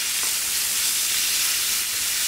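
A sous vide New York strip steak sears in a smoking hot pan on a stovetop, giving a steady, loud broadband sizzle that holds evenly from start to finish with no talking.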